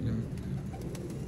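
A Sialkoti pigeon coos in low, soft, throaty murmurs close by, steady through the short moment with a hum of background noise.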